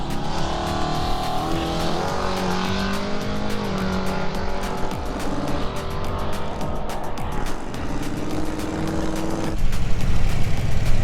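A drag race car accelerates hard down the strip against a 10-second Mustang, its engine roaring loud and rising in pitch, with a surge in volume near the end.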